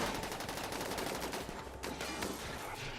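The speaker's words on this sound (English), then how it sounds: "and then Butler, I want you firing on him." Gunfire from the RimWorld video game during a fight against a Scyther, dense overlapping shots and bursts forming a loud, continuous barrage with no talk.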